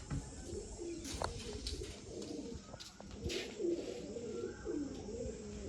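Pigeons coo softly at a rooftop loft, a steady low murmur of calls with a few faint chirps and flutters, heard outdoors at moderate distance with no speech.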